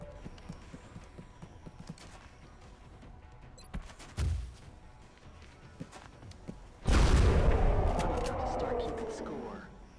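Rapid fire from a soldier taking out a Muton at close range in XCOM Enemy Within, a sudden loud burst of gunfire late in the clip that rings and decays after quieter scattered game sounds.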